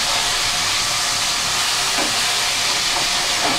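Pomfret pieces shallow frying in oil, a loud, dense, continuous hiss and crackle close up, steady for the whole few seconds with no voices.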